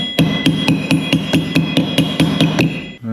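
A hammer strikes a moped brake part about a dozen times in a steady, even rhythm, each blow a close, sharp metallic clank, ending with a short pause.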